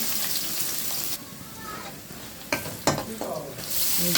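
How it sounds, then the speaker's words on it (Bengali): Sliced green chillies and chopped onion hit hot oil in a kadai with a loud sizzle that drops back after a moment. Sharp scraping stir strokes follow, then the hiss swells again near the end. "পেঁয়াজ আর মরিচটা একটু ভেজে নিচ্ছি।"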